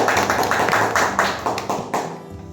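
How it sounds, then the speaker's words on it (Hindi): People clap for the winner of a snail-and-rice eating challenge in a dense burst of close, fairly loud applause that fades slightly toward the end, with almost no talk. "1500 रुपए का नगद राशि खेमराज को देते हुए, और दोस्तों तालियों से स्वागत करते हैं।"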